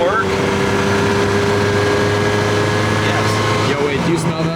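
A Ferrari engine runs steadily during a test drive, a continuous low mechanical hum with a shift in pitch near the end, heard alongside faint talk inside the car.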